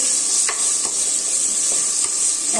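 Channa biryani mixture stirred in a pan, a continuous hissing sizzle with a few distinct scrapes of the spoon against the metal at irregular intervals, close and steady.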